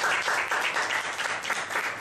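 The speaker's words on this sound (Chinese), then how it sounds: "我觉得他配得再一次的掌声吧" An audience applauds steadily throughout, a dense, continuous wash of many hands clapping at fairly close range with no voices standing out.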